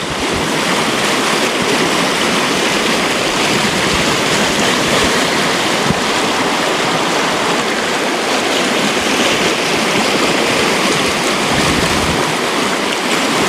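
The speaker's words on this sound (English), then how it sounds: "Good old Clear Creek." Clear Creek rushes steadily past on rural acreage in California, a loud, continuous broadband wash of flowing water with no pauses and no voices.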